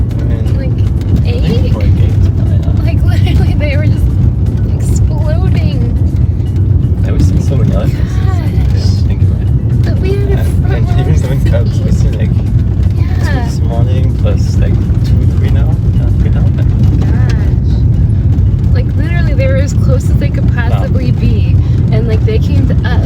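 A car on a self-drive safari road in Kruger National Park, South Africa, gives a steady, loud engine and road rumble throughout, with occasional indistinct voices under the noise.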